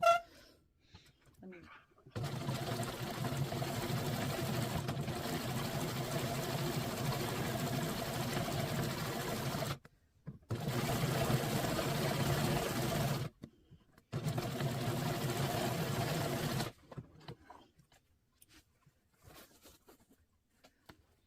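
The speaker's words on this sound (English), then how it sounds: "Okay, let's sew." A sewing machine runs steadily while stitching quilt crumb strips, with three long close-up bursts of fast mechanical whirring broken by short pauses.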